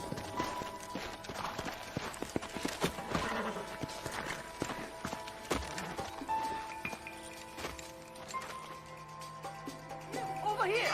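Horse hooves clip-clop in the Western video game Red Dead Redemption. Steady, busy hoofbeats run throughout among game ambience and faint voices.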